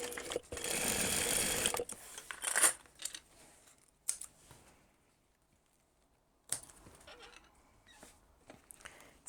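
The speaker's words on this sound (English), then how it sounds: "And now we're going to sew down there at the 6mm 1/4 inch seam allowance." A sewing machine stitches a seam on a tote bag at a quarter-inch allowance, with a close rapid mechanical whir lasting under two seconds, then scattered clicks and fabric handling in a mostly quiet room.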